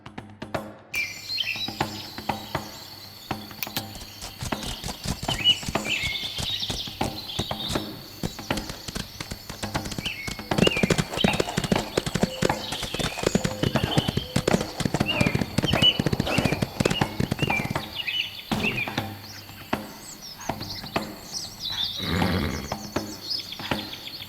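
A horse's hooves clip-clop steadily as it is ridden in Whisper, a close rhythmic trot that strengthens in the middle and fades, with birdsong chirping in the background and no talk.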